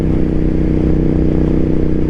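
Motorcycle exhaust while riding, a loud, steady, low rumbling engine drone that holds evenly throughout with no talk.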